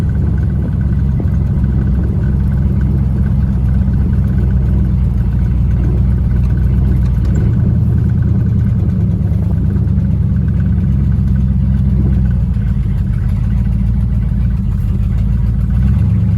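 A 1955 Buick car's engine rumbles steadily while driving, a loud, continuous low drone with mild rises and dips in revs throughout, no talking.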